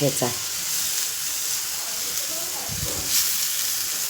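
Fasting-style thecha chutney made with coriander and no garlic sizzles steadily as it is sautéed in a pan, a soft continuous hiss with occasional stirring scrapes while someone talks.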